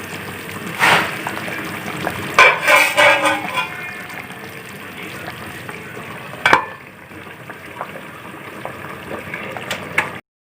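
Beef paya stews in a pot while a spoon stirs it, giving wet sizzling and bubbling with several bursts of scraping clatter near the start and one sharp knock midway, then a steadier simmer before it cuts off.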